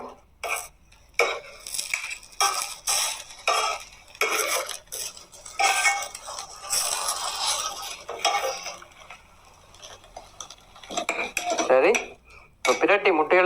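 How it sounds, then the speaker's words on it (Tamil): Metal utensils scrape and clatter against a pan in quick, irregular bursts, with a soft sizzle underneath as a fried egg is flipped. "இப்போ இதை வந்து நாங்கள் திருப்பி போட்டுடலாம் இந்த முட்டையை"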